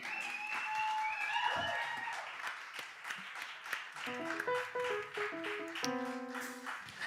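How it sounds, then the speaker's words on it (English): Applause and cheering for a band at a live music show, scattered claps and whoops rising early then thinning out, with instrument notes ringing in the background. "Y'all give a big round of applause for this band"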